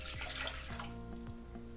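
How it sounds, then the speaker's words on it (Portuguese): Water runs steadily into a Thermomix bowl, a continuous close splashing pour with no talk. "Começamos com a água dentro do bocal"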